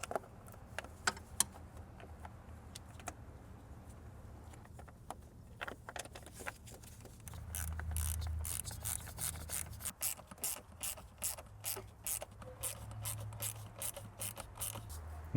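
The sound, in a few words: securing intake manifold bolts on Mercedes ML350 W166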